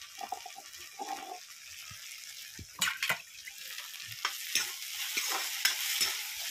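Paneer with tomato fries in oil, a moderate crackling sizzle broken by several sharp spatula scrapes and stirring knocks, close by with no voices.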